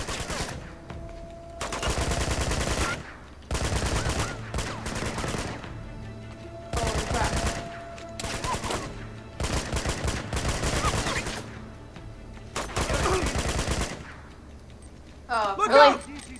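Bursts of automatic gunfire in the video game Uncharted 2, several loud sustained volleys separated by short pauses, with a voice briefly heard near the end.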